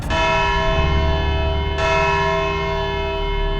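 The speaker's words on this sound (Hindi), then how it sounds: "घंटी बज गई।" A heavy bell rung twice in a courtroom, each strike ringing out loud and sustained with a long metallic resonance and no voices.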